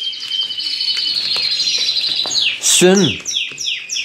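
Young pet birds chirp and tweet rapidly in bright, high-pitched bursts close by, with one louder sweeping call near the end; a brief spoken word occurs.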